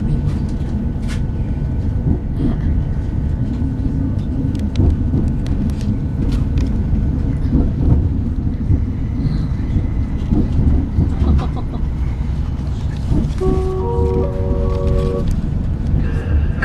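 An East Midlands passenger train to St Pancras International, heard from on board, makes a steady, loud rumble and roar with rattles and clicks. A brief chime sounds near the end.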